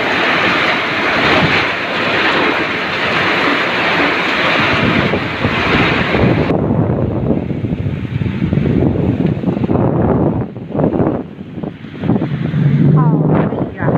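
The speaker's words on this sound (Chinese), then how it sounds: "好大的雨啊，好吓人呐！ 整大风雨啊！" A heavy rainstorm driven by strong wind sweeps the countryside, a loud continuous roar of rain and gusts that drops in intensity partway through, with voices speaking over the downpour.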